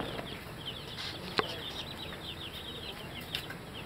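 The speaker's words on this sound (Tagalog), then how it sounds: "Tuwang-tuwa mga manok eh." Chickens and chicks in a small lit poultry pen, with soft high chirping and clucking running throughout over a steady background hum, and one brief sharp peep standing out partway.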